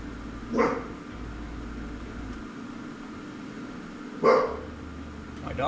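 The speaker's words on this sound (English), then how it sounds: "Dogs they can hear the low frequency noise. They think somebody's outside." Two dogs barking indoors, two separate short bursts of barks a few seconds apart over a low background hum, fairly close and moderately loud.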